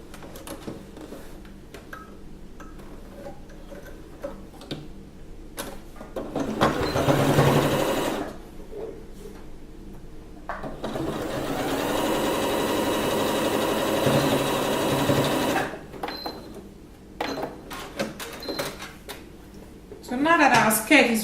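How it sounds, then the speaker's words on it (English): A sewing machine stitches a singly folded half-inch hem on a wrap skirt, running in two steady droning bursts between quieter stretches with handling noise and a person talking. "So now I'm going to stitch this, and I'm still going to use 1/2 inch to fold it,"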